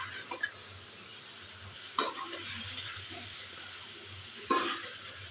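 Karahi gosht meat frying and being stirred in a pan, a soft sizzle under a few scraping stirs and knocks of a spoon against the metal, no talking.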